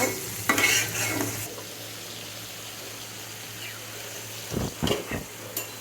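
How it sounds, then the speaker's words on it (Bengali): Shrimp stir-fried in a pan with a soft sizzle, brief scraping stirs near the start and several sharp clinks and scrapes toward the end, with a low steady hum underneath. "কষিয়ে নিতে হবে চিংড়ি মাছ"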